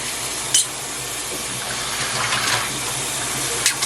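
Syringes for a medically complex toddler being washed in a sink of hot soapy water: steady running and splashing water throughout, with a couple of brief clinks near the start and end.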